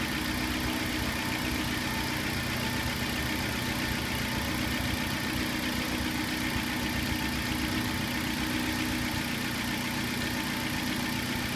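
A car engine idles steadily and close by while a stepper motor adjusts the idle speed, giving a constant even drone with a faint mechanical hum and no talk.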